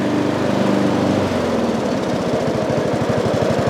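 A small engine idles loudly and close by with a steady, rough, pulsing chug that grows more evenly rhythmic toward the end.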